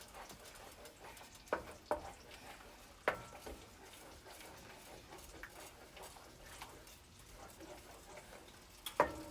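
Turkey drumstick sauce being stirred in a pan: soft, faint scraping and low sizzle with a few sharp utensil clicks against the pan at irregular intervals.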